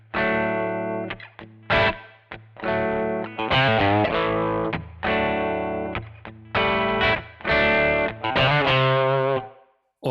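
Electric guitar played through a Kemper Profiler amp with a boomy, low-heavy reverb: distorted chords and single notes in repeated phrases, each ringing out into a lush tail, loud and alone with no talking.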